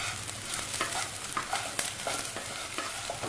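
Raw rice being fried and stirred in a pan for chicken polao, giving a dense crackling sizzle with repeated scraping stir strokes, fairly quiet and close, with no talking.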